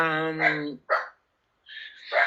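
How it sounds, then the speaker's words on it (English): A dog barks three times nearby, loud and sharp, opening with a drawn-out whining yelp before two short barks. "my dog is barking"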